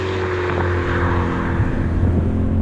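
A BMW E39 M5 V8 cruises under steady load, its deep engine hum and low harmonics droning continuously from inside the cabin, with road noise and no talking.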